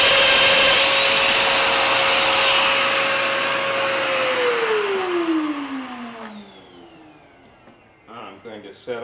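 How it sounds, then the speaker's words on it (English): A shop vacuum hooked up to a Festool Domino 500 joiner runs loudly with a steady whine, then spins down with a falling pitch and cuts off, leaving a few light clatters. "Vacuum's hooked up. Vacuum's on."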